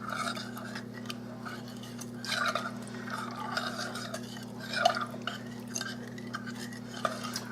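A spoon stirs lemon gelatin in a bowl to dissolve it, making a soft, steady scraping and clinking close by, with a low hum underneath.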